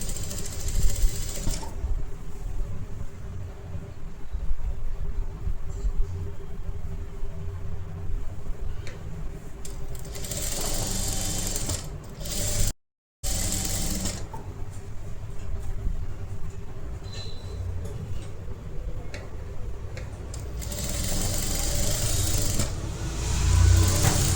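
A sewing machine stitches a princess-cut blouse with a steady, continuous motor whir that drops out for a moment midway, then resumes at the same even level.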